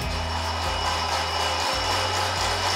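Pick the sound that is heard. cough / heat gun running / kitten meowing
heat gun running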